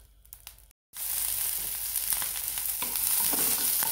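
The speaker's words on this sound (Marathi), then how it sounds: "कांदा भाजून घ्यायचा।" Onion frying in a pan after coconut has been roasted, for an egg curry: a steady, loud hiss of sizzling oil fills the clip after a brief silent gap, with faint scraping of stirring and no talk.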